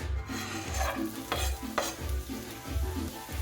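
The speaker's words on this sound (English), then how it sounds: "We're gonna use about a tablespoon of oil. Throw the onions and the garlic" Onions and garlic sizzling in about a tablespoon of hot oil in a pan, a steady close crackle broken by repeated stirring scrapes at a regular rhythm.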